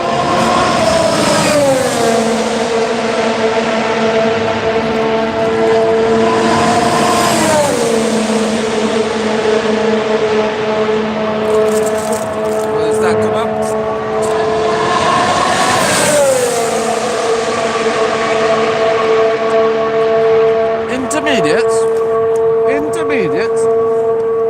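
Formula 1 race car engines revving on the starting grid at Barcelona, loud high-pitched whines rising and falling in repeated surges over about twenty-five seconds, with other cars further away underneath.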